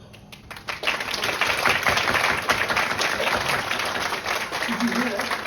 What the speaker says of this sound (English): Did you hear the applause?